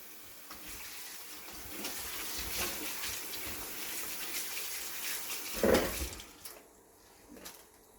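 Mulukhiya leaves being washed by hand in cold running tap water, a steady close rush and splash lasting several seconds with a brief louder slosh near the end.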